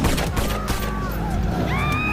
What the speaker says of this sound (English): They hear gunshots.